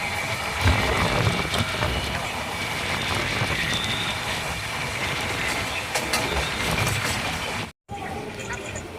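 Inside a general coach of the Karaikal–Mumbai LTT Express as it arrives at Arakkonam: continuous loud rumble and rattle of the carriage with voices throughout, cut by a brief gap near the end.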